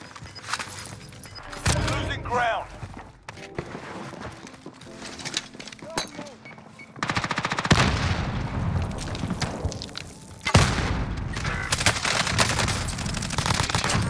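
Shotgun and other gunfire crackle in the Warzone video game, with several sharp booming shots and bursts spread across the clip, mixed with game effects and players talking over the action.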